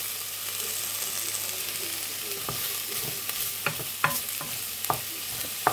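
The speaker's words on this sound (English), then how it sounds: "Sounds like these babies are" Chicken fries in a pan with a steady, close sizzle and crackle, punctuated by sharp pops and stirring scrapes.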